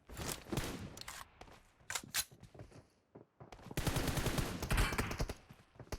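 Gunfire in the mobile battle-royale game PUBG Mobile, with several bursts of rapid shots and short pauses between them, fairly quiet overall.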